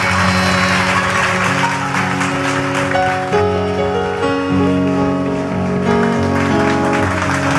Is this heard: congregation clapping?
yes